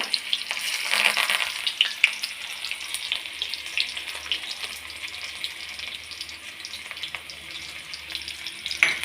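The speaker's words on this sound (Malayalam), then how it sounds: "എണ്ണ ചൂടായി കഴിയുമ്പോൾ ചുമന്ന ഉള്ളി ആദ്യമേ ഇട്ട് കൊടുക്കണേ" Red shallots sizzle and crackle in hot oil for tempering a mango pulissery curry, a steady bright frying hiss with occasional spatters and stirring, fairly close and alone without talk.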